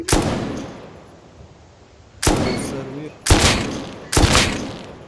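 Gunfire from the survival video game Rust: four loud, sharp shots with long echoing decay, the first alone and then three more in quick succession about a second apart, with faint voices between them.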